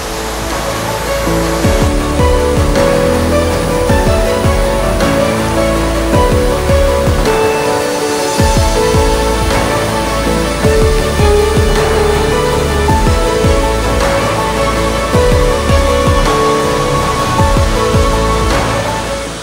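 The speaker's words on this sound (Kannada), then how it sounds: "ಇದೇ ಮಂಡಪಿ ಕಡ ವಾಟರ್ ಫಾಲ್ಸ್ ಆಗಿದೆ" Savatkada waterfall in dense forest, a steady, loud broadband rush of falling water that fills the whole stretch with constant roar, with no voices over it.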